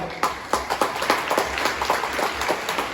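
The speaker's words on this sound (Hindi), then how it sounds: "उन सभी के लिए एक बार तालियां हो जाए" Audience applause at a school Independence Day celebration, the crowd clapping quickly and irregularly, with sharp individual claps standing out over a softer backdrop of many hands, moderately near and with no voices over it.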